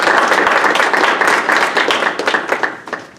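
Short burst of audience applause at an academic event at Michigan State University, a smaller group clapping close by, loud at first and thinning out into scattered claps over about three seconds.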